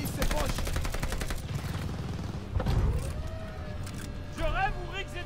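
Rapid machine-gun bursts crackle in Call of Duty Vanguard, a dense string of shots at the start followed by scattered firing, explosions and mechanical game effects, with a voice speaking over the action.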